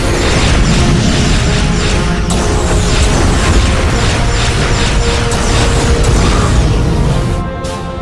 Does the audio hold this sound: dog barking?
no